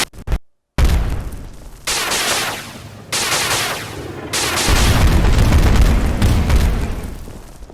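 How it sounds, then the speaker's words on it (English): Several variations of an explosion sound effect added to an Adobe Animate animation play one after another: loud booms with rumbling, crackling tails and brief gaps between them, with no talking. "Then add a couple variations of an explosion sound effect."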